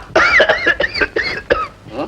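A man in an old Tamil film coughs in a rapid series of harsh, close hacking bursts, several coughs in quick succession with short gaps between them.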